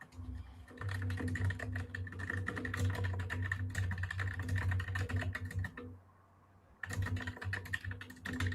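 Rapid typing on a computer keyboard, a dense continuous clatter of keystrokes with a brief pause near the end before the fast tapping resumes, over a low steady hum.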